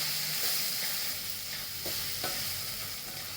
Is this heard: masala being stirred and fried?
yes